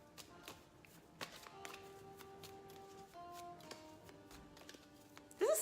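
Question cards being shuffled and handled, faint and close, with soft scattered taps and rustles and a quick louder flurry at the end.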